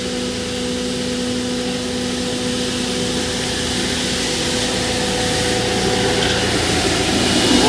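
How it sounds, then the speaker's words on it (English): A street sweeper moves along a residential street, making a steady, loud broadband roar with a whooshing, vacuum-like hiss that builds gradually as it approaches. "There's a street sweeper coming up the street."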